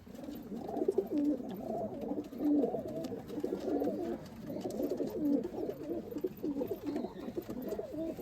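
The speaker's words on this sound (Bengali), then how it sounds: "অনেক পুরনো জেনারেশনের পায়রা" Pigeons of an old-generation Indian line coo steadily and close by, low rolling calls repeating throughout with no talking.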